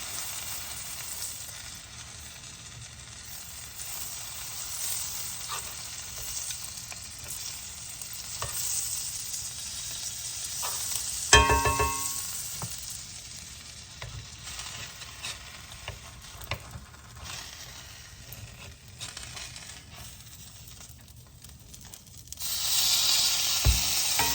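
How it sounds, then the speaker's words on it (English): Pesto grilled cheese sandwich sizzling in a buttered skillet, a continuous close hiss and crackle lasting throughout, with one brief sharp clatter partway through and the frying swelling louder near the end. "We're going to butter our spot here in the skillet where we're going to flip it over."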